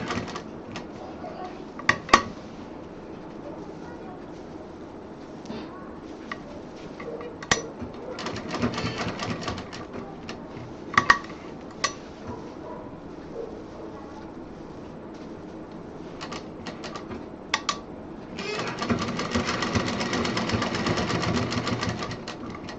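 A sewing machine stitches fabric for a folding tour bag in short intermittent bursts with sharp clicks between them, then runs longer and steadier near the end.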